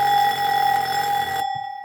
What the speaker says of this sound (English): One more test on the alarm, just a satisfaction test.